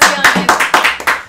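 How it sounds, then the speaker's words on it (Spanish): A small group claps close by for a woman named Eulalia during a home-buying talk, loud, sharp bursts at a quick, uneven rhythm, with voices mixed in. "¡Un aplauso para Eulalia que ya está ahí!"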